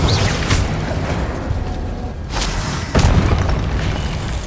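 Confringo and Incendio spell explosions in Hogwarts Legacy hit as a few deep booming bursts spaced a second or two apart, loud and close over a dense rumbling game background.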